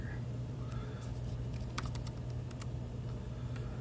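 Typing on a computer keyboard while entering a Linux install command on a Chromebook, a short burst of scattered clicking keystrokes in the middle over a steady low hum, fairly faint and with no talking.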